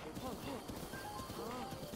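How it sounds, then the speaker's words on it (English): Horses in the open world of the video game Zelda Breath of the Wild, hoof clip-clop and a brief whinny-like call running under steady game sound and a speaking voice. "Oh, there's some horses. There are other horses."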